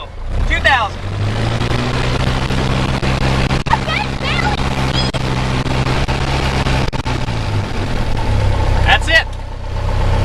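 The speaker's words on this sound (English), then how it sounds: "Give it some power, and then we check all the engine's instruments" A light aircraft's piston engine runs up to about 2000 rpm before a first flight, a steady droning hum holding at power, with people talking faintly over it.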